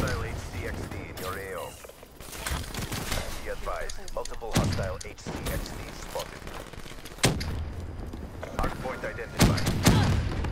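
NX Shadow Claw gunfire in Call of Duty Black Ops III, rapid bursts of sharp shots with loud thumps and game effects, close and loud, under an excited player talking over it throughout.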